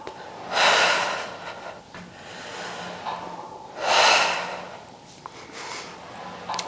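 Heavy breathing during an intermediate-to-advanced Pilates reformer workout: two long, loud breathy exhales about three seconds apart, with softer breaths between them and no talking.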